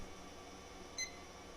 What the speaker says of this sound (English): we have a timer here. I set it to 15 minutes